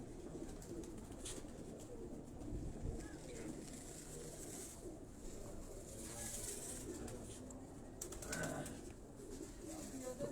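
Low, soft cooing of crested pigeons mixed into a busy, noisy background in Quetta, with occasional flutters of wings and faint voices.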